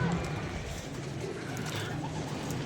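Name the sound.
pigeons cooing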